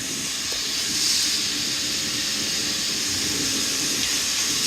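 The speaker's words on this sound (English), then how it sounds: "That uses compressed air to move that cylinder in or out." A steady hiss of compressed air drives the pneumatic cylinder on the discharge gate of a rebuilt Strong Scott 5-ton mixer. The broad rushing hiss holds evenly throughout, with a low mechanical rumble underneath and no talk.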